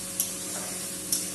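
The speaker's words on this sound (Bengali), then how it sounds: "তাই ভাজাটা হতে থাক, যাতে একটু সিদ্ধ হবে।" Leftover cooked rice frying in a pan, a soft continuous sizzle with a couple of faint light clicks, no voices.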